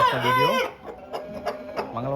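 An Aseel rooster clucks up close in drawn-out, throaty calls, with a short pause before a final longer call.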